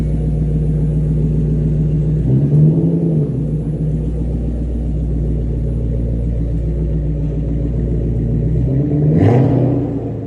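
A car exhaust rumbles deeply at a loud idle, with two brief revs swelling and falling back, one early and one near the end, close and continuous.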